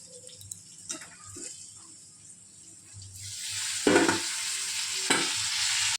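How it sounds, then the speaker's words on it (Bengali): Food frying in oil in a kadai is stirred, with a steady sizzle throughout and louder scraping stirs near the four-second mark and again near five seconds, heard close up with no talk. "চলো একটু নেড়ে দিই দেখি এক্ষুনি নেড়ে দিলাম"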